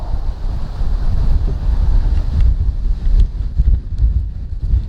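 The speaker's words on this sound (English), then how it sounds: "big gust of wind just came up" A gust of wind buffets the microphone outdoors during a drone flight, producing a heavy, rumbling low roar that surges and fluctuates throughout, loud and close with no speech.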